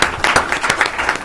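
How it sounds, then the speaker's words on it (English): Applause from an audience at a panel discussion on emergency communications, a short burst of steady clapping at moderate level with no talk over it. "so give them a round of applause"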